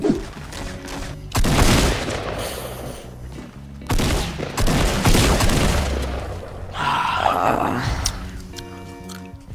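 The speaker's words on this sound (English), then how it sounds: "the tac shotgun never ceases to disappoint me" Tactical shotgun blasts and gunfire from the Fortnite battle royale video game come in several loud, booming bursts with short gaps between them, with voices in the mix.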